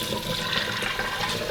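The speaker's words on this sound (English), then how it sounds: "Now we're going to drain the vermicelli with running cold water" Cold tap water runs steadily over vermicelli noodles draining in the sink, a continuous close rushing splash with no voices.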